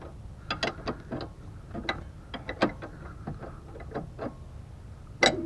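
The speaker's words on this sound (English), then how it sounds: "The finger helps guide the wrench on." Ratchet wrench clicking on the rear brake of a 2007-2012 Nissan Altima, quick bursts of close metallic ratcheting in short irregular runs, fairly quiet with a sharper clack near the end and no talk.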